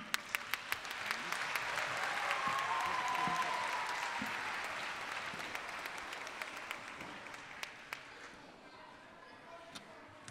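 An audience applauds at a children's orchestra concert, with dense clapping that swells, then thins into scattered individual claps toward the end, heard from within the hall.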